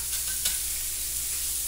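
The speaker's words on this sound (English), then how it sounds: "got my patties made up and my skillet hot and it's ready to start putting them in there" Hamburger patties fry in a hot skillet, a soft, even sizzle that holds steady with no talking, one faint brief clink near the start.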